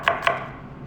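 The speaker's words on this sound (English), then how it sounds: "So the way that I cut the onion, it's called a radial cut" Two sharp knife chops through an onion on a cutting board during a radial cut, close and crisp, a quick pair of strikes followed by quiet.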